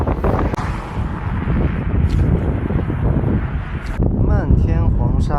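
Strong gusting wind buffets the microphone during a cycling trip in Inner Mongolia, a loud continuous roar that drops slightly near the end, with a voice speaking over it.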